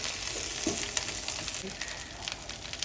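Okra frying in oil in a saucepan gives a constant soft hiss with scattered small crackles and pops, fairly quiet and close.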